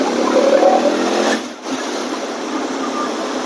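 A Bajaj Dominar 400 motorcycle engine pulls under acceleration, a steady loud broadband drone that dips briefly midway as if on a shift, then carries on evenly.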